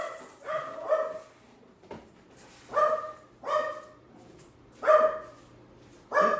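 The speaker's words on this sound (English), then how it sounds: "Sky, my little dog alarm was going off." A small dog barks in short clusters, four bursts with pauses between them, fairly close and loud in an otherwise quiet room.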